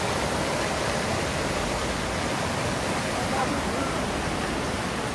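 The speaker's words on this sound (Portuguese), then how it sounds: "Muito forte, é a chuva." Heavy rainstorm in Crato, Ceará, with water running and pouring, a dense, constant roaring hiss filling the whole stretch without letup; a voice speaks briefly over it.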